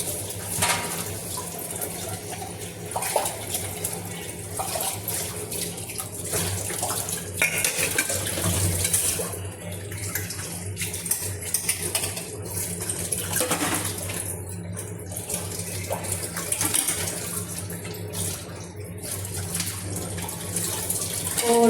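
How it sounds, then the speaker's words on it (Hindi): Dishes and utensils are washed by hand in a home kitchen sink under a continuously running tap, with steady water hiss broken by scattered clinks and clatters of pots and cutlery throughout, and no talking. "और अब मैं धो रही हूँ बर्तन, थोड़े से ही थे बर्तन धो रही हूँ।"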